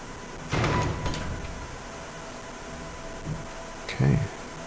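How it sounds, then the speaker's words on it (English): A door opening in the video game The Bookwalker - Thief of Tales: a short mechanical slide and rush of noise, then a quieter stretch and a second similar burst near the end. "Let's try the door."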